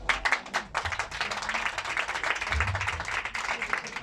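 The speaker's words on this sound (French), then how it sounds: "Michel, qu'on applaudit très fort." Audience at a Moroccan Jewish celebration in Oujda, 2020, applauding: dense, close crowd clapping that keeps up steadily for the whole moment.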